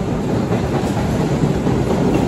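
A train rolls along the rails at night, a loud, continuous rumble and rattle heard from aboard, with no talk over it.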